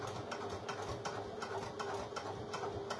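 Sewing machine stitching suede fabric, a steady fast mechanical whirr with a regular ticking pulse of the needle running continuously at close range.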